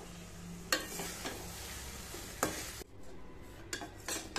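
Cooked rice for mint pulao being stirred and mixed in a pan, with a few sharp spoon scrapes against the metal over a soft background, alone without talk.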